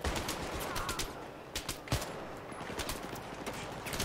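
Rifle fire from a G3 in the video game Battlefield 3, a co-op mission, with sharp repeated shots spaced irregularly through a busy battle bed, one particularly loud crack standing out near the middle.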